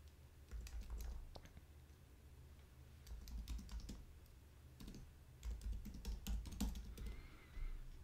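An email address is typed on a computer keyboard in short bursts of close, crisp key clicks separated by brief pauses, quiet and without any talking.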